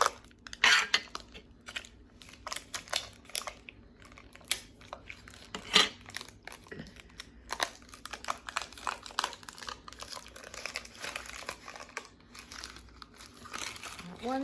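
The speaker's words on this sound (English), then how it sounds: "I'm gonna get my tape and I'm gonna tape it on" Parchment paper crinkling and tape being pulled and pressed while covering the end of a homemade rain stick: irregular close rustles, crackles and small taps, with a voice talking at times.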